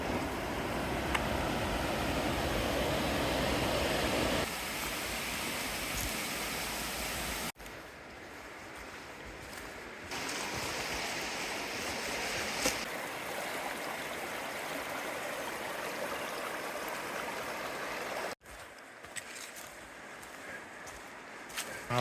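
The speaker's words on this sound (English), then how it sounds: "You get the sounds of the water, the cascades." Rushing river water tumbles over cascades on the Foothills Trail in a steady, full roar, close by, with brief shifts in loudness as the position changes.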